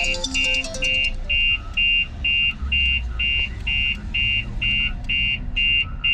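A StarLine S96 alarm installed on a 2018 Toyota GT86 sounds a loud, shrill electronic tone pulsing in even on-off bursts about twice a second, with low engine rumble and some talk underneath.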